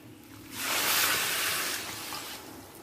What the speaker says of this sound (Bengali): এরপর দিয়ে দেব মেপে রাখা জল,